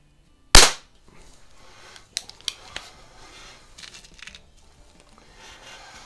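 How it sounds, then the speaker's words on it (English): Beeman P3 single stroke pneumatic air pistol fired indoors: one sharp, loud crack near the start, followed by a few fainter clicks and handling taps. "let's go ahead and shoot a couple shots with this one"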